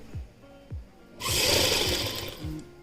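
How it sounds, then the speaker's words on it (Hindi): A sewing machine stitches a PPE kit seam in a short steady run of about a second and a half, preceded by small clicks and quiet tonal chirps. "जैसा हमने खोलते हुए दिखाया था वैसे ही फिर हम इसको सिल रहे हैं।"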